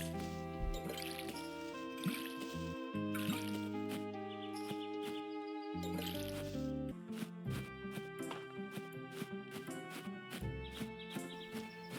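Watering plants in the video game Fields of Mistria gives soft trickling, splashing water effects set over a continuous gentle musical background, with no talking.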